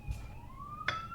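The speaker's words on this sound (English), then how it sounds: "Oh my god, the siren." Distant siren with a slowly rising wail, faint behind low background noise, with a brief clatter near the end.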